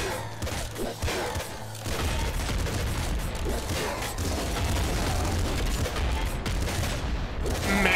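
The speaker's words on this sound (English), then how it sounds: "Man, those meaty explosions are just the most satisfying." Nuclear Throne PC game combat: a rapid, dense volley of meaty explosions and gunfire, with heavy machine-gun bursts crackling and booming continuously at high volume and only brief dips between salvos.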